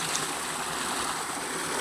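Water gushes from a motor pump outlet at a farm, filling drinking-water jugs. A continuous, even rushing flow sounds up close throughout, with no break.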